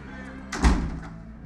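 A door swings shut in a film scene, one soft thud with a brief rattle following, close by and alone.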